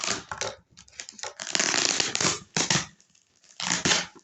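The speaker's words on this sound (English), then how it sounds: "I will just unbox them" Packaging rustles and tears close up in bursts of crinkling and ripping, with short pauses between, and no talking.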